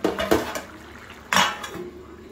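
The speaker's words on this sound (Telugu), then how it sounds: "మూత పెట్టేసుకుందాం." A metal lid is set onto a pot of simmering curry with dried fish, drumsticks and egg, giving a few sharp metallic clanks and rattles, the loudest around midway, with quieter clinks between.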